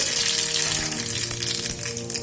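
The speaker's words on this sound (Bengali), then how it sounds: "1 চামচ সর্ষে ফোড়ন দিলাম" Mustard seeds sizzle loudly in hot oil in a pan used for cooking data shak (amaranth stem greens), a dense, continuous hiss with small popping crackles throughout.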